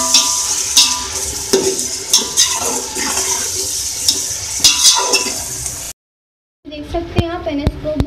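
Beef pieces fry with a paste in a pot, a busy sizzle under repeated clattering stirs and scrapes, then a sudden short silence before the sizzling and stirring resume.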